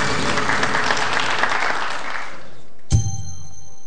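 A quiz show audience breaks into applause, a dense burst of clapping that fades away after about two and a half seconds, followed by a brief sharp tone.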